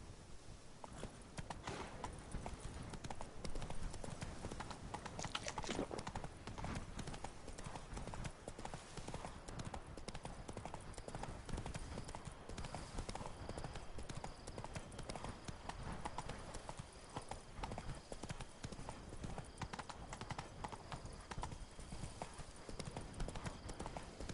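Horse hooves clip-clop steadily at a walking pace in The Witcher 3 open-world game, continuous and fairly close, with soft ambient game sound underneath and a voice briefly speaking over it.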